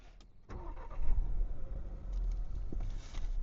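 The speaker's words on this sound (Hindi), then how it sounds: "इंजन ऑन करके दिखाता हूँ कैबिन में कैसा सुनाई देता है" A Skoda Slavia Monte Carlo sedan engine cranks and catches, then settles into a steady low idle rumble heard from inside the cabin, with no voices.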